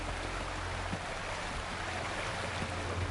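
A waterfall in the video game Wuthering Waves gives off a steady, unbroken rush of water, a dense hiss that holds at an even level throughout.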